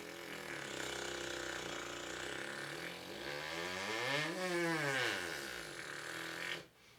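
Brass player buzzes on a trombone mouthpiece alone, a raw reedy drone that slides and bends in pitch, sweeping down toward a low pedal tone before cutting off abruptly near the end.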